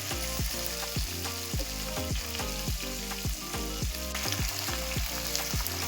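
Tomatoes and green chillies with garlic fry in a pan for a spicy tomato chutney, giving a continuous, close sizzle with no voices, while music with a regular beat plays underneath.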